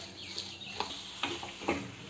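Grated raw mango fries in a pan over medium heat for mango jam: a soft, steady sizzle with a few sharp stirring scrapes at intervals, no voices.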